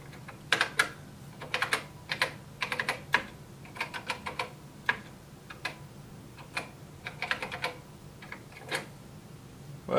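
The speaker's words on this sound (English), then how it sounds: "Sorry for this slow typing, but I am typing left-handed." Keys clack on a computer keyboard in slow, uneven bursts as someone types left-handed, with short pauses between groups of close, crisp taps.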